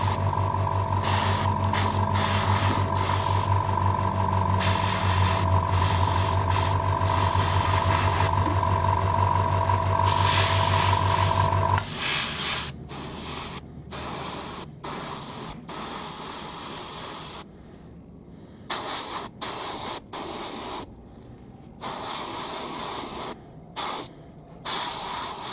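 Airbrush spraying Vallejo Metal Color acrylic metallic paint: a loud, continuous compressed-air hiss with a compressor droning beneath for the first half, then the hiss comes in short, repeated bursts with brief gaps between them.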